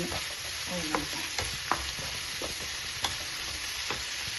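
Onion and ginger sautéing in a hot pan for chicken ularthu, a steady broadband sizzle with several soft scraping stirs of a spoon along the pan, close and fairly quiet.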